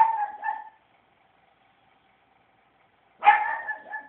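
A pug gives two short barks at the start, then falls silent for over two seconds before a louder, sharper bark with a tonal edge; the dog is close and heard alone, barking at a balloon indoors.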